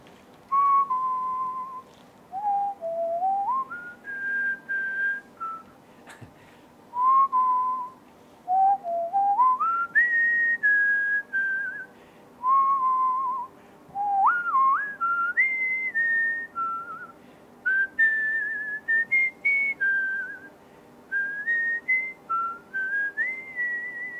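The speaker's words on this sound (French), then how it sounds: "vous pourriez siffler ce que vous avez joué ce jour-là" A person whistles a melody first played on trumpet, clear sustained tones in short phrases with pauses between them, close and alone with no other sound.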